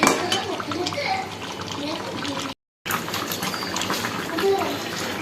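Water splashes steadily into a pot of chicken curry with a few light clinks of cookware, while a voice talks quietly underneath.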